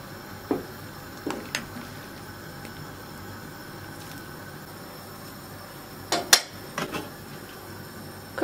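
A metal pot lid is set half-covering a pot of simmering potatoes, giving a few scattered clinks and taps, with a sharper cluster of clatters near the end against a quiet kitchen background.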